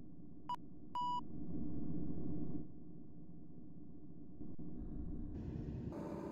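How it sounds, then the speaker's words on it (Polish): A Soviet-era LiAZ bus engine in the Roblox video game, in a Russian city, gives a steady low droning rumble with no talk. Two short electronic beeps come near the start, and a brighter hiss rises toward the end. "Niestety dźwięk silnika jest dość słabo wykonany tutaj."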